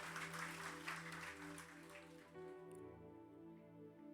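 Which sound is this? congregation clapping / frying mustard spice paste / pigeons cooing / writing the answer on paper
congregation clapping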